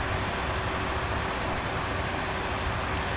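Steady, close jet engine roar of a BAe 146 four-engine regional airliner in Flight Simulator X, a continuous broadband hum with a faint high whine, unchanging and alone with no talk.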